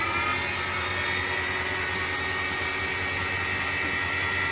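A valve grinding machine runs with its grinding stone spinning, giving a loud, steady, unbroken whine and hum that stays close and constant throughout.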